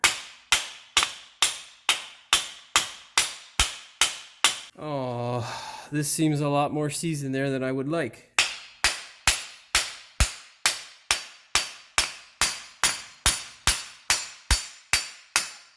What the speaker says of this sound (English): take our hammer and smash this section here